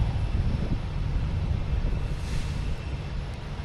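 A JetBlue airliner arriving at Boston Logan Airport gives a steady low rumble with some wind buffeting, continuous and moderately loud, with no voices.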